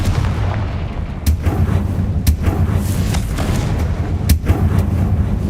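Bombarda and Confringo spell explosions in Hogwarts Legacy burst repeatedly, sharp booming blasts at irregular intervals over a continuous rumbling battle din.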